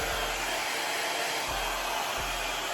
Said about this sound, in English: It's a multi-functioning hair dryer.